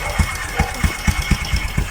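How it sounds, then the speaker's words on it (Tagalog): A motorcycle engine idles close by in a quick, uneven chain of low thumps, with no voices over it. "yan po ang aming gagamiting motor"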